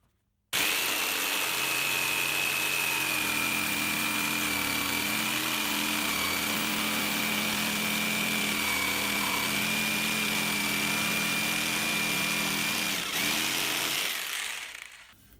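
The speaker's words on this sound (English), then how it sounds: "Just going to cut that with the jigsaw." Jigsaw cutting a scallop into a recycled bamboo worktop, a loud steady buzzing whine that starts abruptly, holds an even pitch for about thirteen seconds, then winds down at the end.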